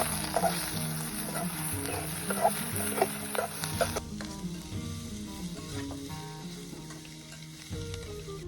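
Chopped onions hiss and crackle steadily in hot oil for a Gujarati radish leaf curry, a loud close sizzle with a brighter burst that drops to a softer, settled fry partway through, with a few stirring clatters and no talk.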